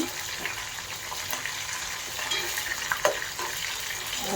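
Onions frying in a pan for a broad bean (goru chikkudu) curry, giving a steady soft sizzle with occasional stirring scrapes, close and moderately quiet, with no talk.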